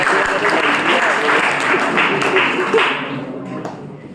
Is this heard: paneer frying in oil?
no